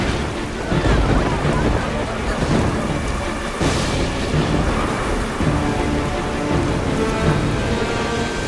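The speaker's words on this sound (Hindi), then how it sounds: "ये तूफान तब तक थमना नहीं चाहिए" A heavy rainstorm unleashed to flood Vrindavan pours down as a dense, constant roar of rain with rumbling thunder, loud and unbroken throughout.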